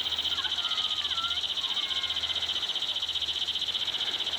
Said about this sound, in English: The cicadas have come out.